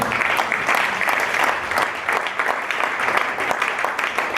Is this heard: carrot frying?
no